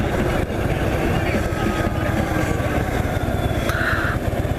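A motorcycle engine drones loudly and steadily nearby, its broken-in exhaust pipes rumbling at a constant throttle with a brief higher whine near the end.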